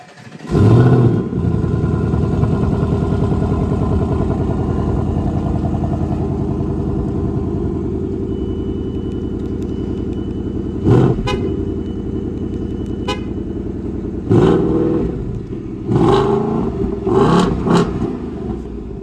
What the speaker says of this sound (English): when you remote start the vehicle and then you lock, unlock, and then hit lock again, for however long you hold the lock button, the vehicle will remote rev